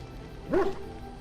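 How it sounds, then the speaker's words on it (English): A single short dog bark in the fantasy video game Dragon Age: Origins, close and clear above a quiet background. "Shut up, dog!"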